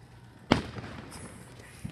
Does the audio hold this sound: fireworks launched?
yes